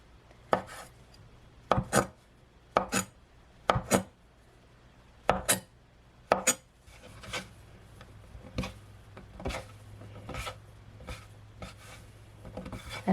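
Knife chopping through rolled flour noodle dough on a board, a steady series of sharp, close taps in small bursts, later becoming softer and more evenly spaced.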